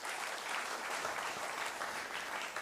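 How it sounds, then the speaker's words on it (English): Applause from the audience at the opening ceremony of a men's and women's inter-university squash tournament in Mumbai, a steady wash of many hands clapping, moderately distant and unbroken. "Clap for yourself, guys."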